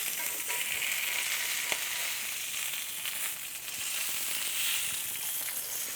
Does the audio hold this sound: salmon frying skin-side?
yes